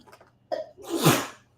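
A single loud, close sneeze with a short sharp intake of breath before it, then quiet.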